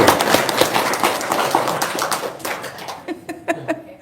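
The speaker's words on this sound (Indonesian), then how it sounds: "Tepuk tangan dong." A group claps hands in a fast, dense burst that thins toward the end into a few separate, sharper claps.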